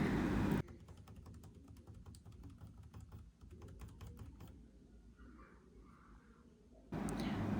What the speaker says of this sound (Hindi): पावर बटन को प्रेस और रिलीज़ करके F2 की को बार बार प्रेस करते रहना है